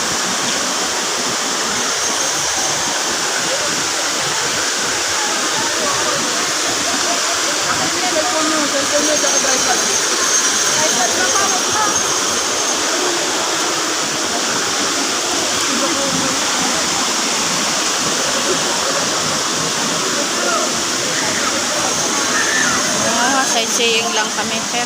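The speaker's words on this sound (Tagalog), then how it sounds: "Apat daw yung falls dito guys" Daranak Falls, a waterfall, roars with a steady, loud broadband rush that goes on without a break. Crowd noise from people swimming nearby mixes faintly into the sound.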